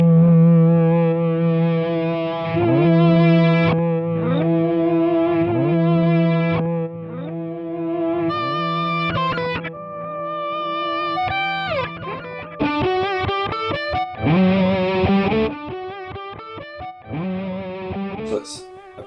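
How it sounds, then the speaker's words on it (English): Electric guitar run through a reverse delay effect, single notes swelling backward with smeared, rising attacks and repeating echoes over a sustained, distorted tone, played alone and fairly loud throughout. "We've got a reverse delay, which basically allows us to play a note and then it will be played back in"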